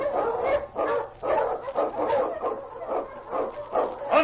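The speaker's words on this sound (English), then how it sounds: "The Wonder Dog King, swiftest and strongest of Eskimo lead dogs" A husky lead dog in a radio drama barks in repeated rhythmic bursts, loud and close, running through the whole stretch with no talk over it.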